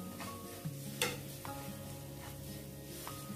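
Ginger, garlic and green chilli with turmeric are stirred in a pan for a tempering, giving a soft, quiet sizzle broken by a few light scrapes and taps of a spoon against the metal.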